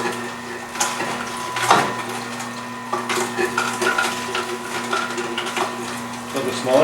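An Omega NC 800 juicer set to its tightest setting grinds and squeezes produce with a steady motor whir and uneven crunching, close and continuous, with a voice talking over it.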